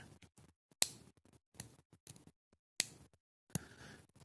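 A CIVIVI Hooligan folding knife, model C913A, locks into place with several crisp, close clicks spaced apart in a quiet room.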